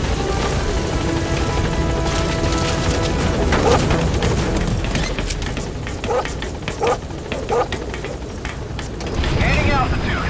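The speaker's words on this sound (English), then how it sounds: "Support helicopter has arrived." A support helicopter in the video game Metal Gear Solid V arrives with a loud, steady rotor roar that fills the scene, with radio voices and scattered effects layered on top.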